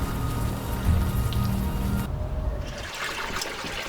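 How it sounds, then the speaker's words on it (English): Steady rain falling in the adventure game Unavowed, a continuous dense patter and trickle that changes character partway through as the ambience shifts, with no voices. "At least the rain is washing away most of the smell."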